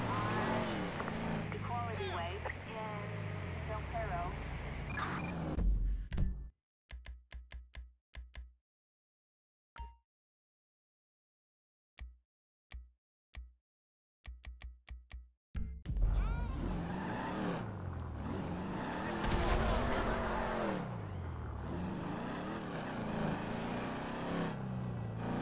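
A car drives and rams another vehicle in Grand Theft Auto 5: a loud engine roar with tire noise opens, breaks into sharp impact clicks amid near-silence, then the engine surges again while voices talk over it.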